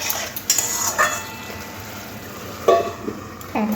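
Stirring of a Bengali mustard-based parshe fish jhal masala in a pan, with a few distinct scraping and clinking taps of a utensil against the pan over a faint background sizzle, no talking.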